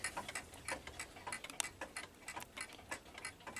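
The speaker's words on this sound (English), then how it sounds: "Down here is the Junghans Bam Bam mantel clock." A Junghans Bam Bam mantel clock ticking steadily and quietly, the even rapid beats carrying on alone with no voices.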